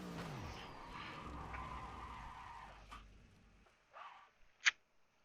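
A race car spins and skids at Portimao in a racing game, tires squealing and engine droning loudly, then fading to a few sharp scrapes and a short high squeal near the end.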